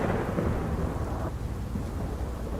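Thunder from an approaching storm rolls in as a deep, sustained rumble with rain hissing beneath it, loud at first and then easing.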